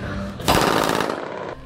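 Gunshots fired from a jet ski near homes by the Ponte da Passagem in Vitória, a loud burst of rapid cracks blurring into one sustained roar, heard from a distance with no speech over it.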